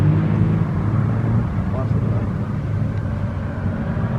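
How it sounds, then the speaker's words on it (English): An Austin 7 classic car drives in at an Oulton Park rally, its low engine drone and rumble steady and fairly close, with a voice talking over it. "Austin 7 driving in"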